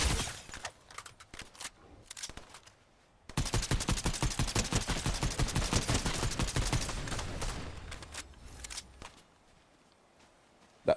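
Gunfire in Fortnite Battle Royale: a few scattered shots give way to a sustained, rapid automatic burst lasting several seconds, which then fades out. A final sharp shot lands at the end, and no one talks.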